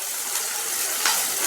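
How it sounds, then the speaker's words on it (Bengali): Onions fry with salt on a medium flame, giving a dense, even sizzle close up, with a brief stir partway through. "একটু মিডিয়াম ফ্লেমে দিয়ে পেঁয়াজটাকে ভেজে নিতে হবে"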